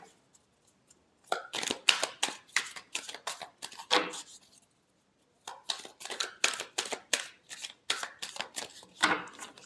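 Tarot cards are riffled and shuffled close up in two brisk bursts of rapid papery flicks separated by a short silent pause.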